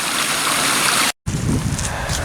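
Brook water flowing steadily past a camp, a broad continuous rush with a short silent break midway, close and fairly loud with no voices.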